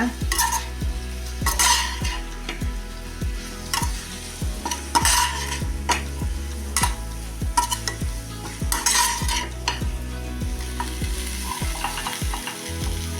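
Masala powder being stirred into a cauliflower pepper fry in a pan, with a steady rhythm of spoon scrapes and clinks over a continuous sizzle, close and moderately loud, with no talking.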